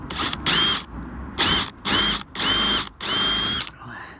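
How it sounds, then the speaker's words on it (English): A power drill with a step bit whines in five short bursts of a few seconds each, drilling a small wiring hole in a car, with brief pauses between, loud and close. "Drill a little hole."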